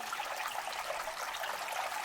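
Water runs steadily over a silicone gold sluice mat with mini nugget traps, a continuous close rushing hiss with no breaks and no voices.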